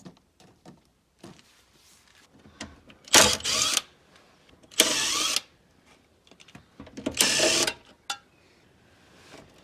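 The air suspension compressor of a classic Range Rover runs in three short bursts of harsh, close buzzing whir. Each burst lasts under a second, with quiet clicks and handling noises in the gaps between them.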